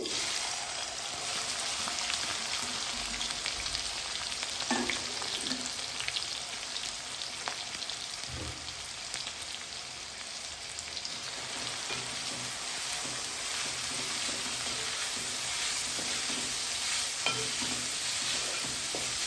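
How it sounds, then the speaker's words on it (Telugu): Chopped onions and green chillies fry in hot oil in a pan, giving a dense, continuous sizzle with a few small pops and stirring scrapes, close by and with no talking. "ఆయిల్ అయితే వేడైందండి ఇప్పుడు ఉల్లిగడ్డలు పచ్చిమిర్చి అయితే వేసుకోవాలి"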